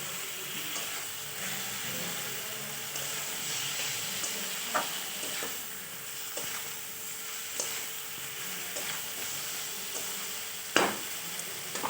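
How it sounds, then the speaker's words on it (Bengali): Spice paste and vegetables stirred together in a hot pan for Bengali shukto, giving a steady soft sizzle with scraping spoon strokes and occasional sharper clinks, close and continuous with no talking. "এবার এটা ভালোভাবে নিয়ে নিতে হবে মিক্স করে নিতে হবে সবজির সাথে"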